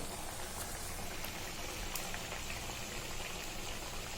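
Corn vadas frying in hot oil give a steady, dense crackling sizzle that stays even and close throughout, with no voices.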